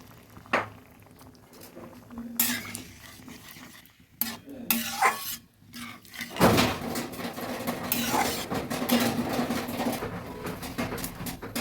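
Water is poured into a cooking pot, first with a few clanks and short splashy bursts, then settling into a steady rushing pour in the second half.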